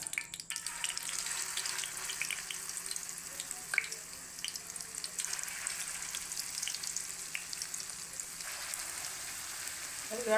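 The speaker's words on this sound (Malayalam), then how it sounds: "നമ്മൾ എണ്ണ ചൂടായി നമ്മൾ ഇടാൻ പോവുകയാണ്." Chicken pakoda batter fries in hot oil with a steady, close sizzle and crackle that keeps going throughout, with a few brief pops and light clinks along the way.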